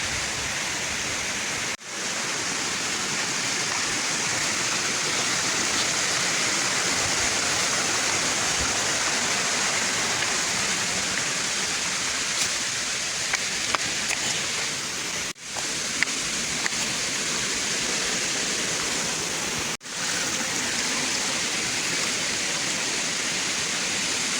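A waterfall in Sabang roars as a steady, dense wash of falling water, continuous and close for the whole stretch, with only brief dropouts and no voices.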